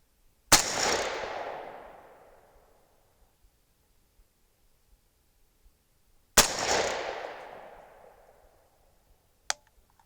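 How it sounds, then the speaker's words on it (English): Two loud rifle shots from a 6.5 Grendel AR firing 27.0-grain competition handloads at a range, each a sharp crack with a long decaying echo about six seconds apart, then a short faint click near the end. "Let's see if we can shoot a group."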